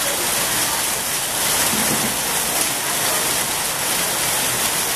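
Rain falls outdoors in a dense, loud, unbroken hiss during an outdoor exercise session of sit-ups, push-ups and squats.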